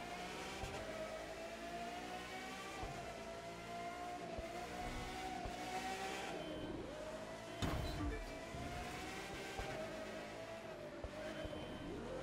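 Touring race car engines roar in The Crew 2 video game during a street race through a vertical city, a loud, steady engine drone with rising and falling revs and a brief sharper burst near the middle, with no talking.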